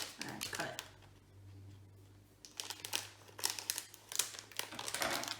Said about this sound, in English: So we have scissors. We're going to cut it.